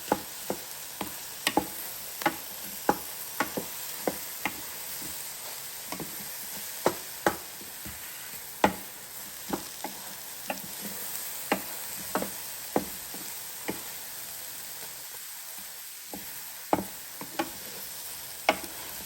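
Eggs being stirred in a frying pan with milk and seasoning, heard as repeated sharp scraping clicks of the utensil at an irregular rhythm over a faint steady sizzle, close and alone without talk.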